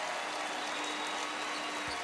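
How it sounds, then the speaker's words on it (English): Crowd applause at a men's college basketball game between Texas Tech and Baylor, a dense, steady wash of clapping and arena noise heard from a distance at low level. "a big round of applause"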